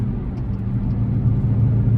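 An old car's engine drones steadily while driving, a low continuous rumble with a faint whir, close and unbroken throughout.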